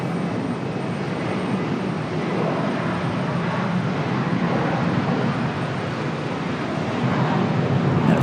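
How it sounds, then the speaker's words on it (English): A JetBlue airliner moves out at Charlotte airport amid a steady, broad roar of jet engines, a continuous distant rumble with no clear peaks and no talk. "There goes JetBlue, finally, after poking its head out around the corner."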